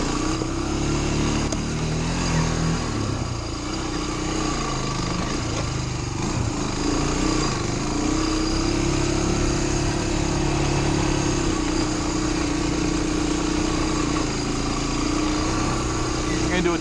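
A Honda Fourtrax 250X quad cruises on light throttle, its single-cylinder engine holding a steady, close mid-pitched drone with wind rush for the whole stretch.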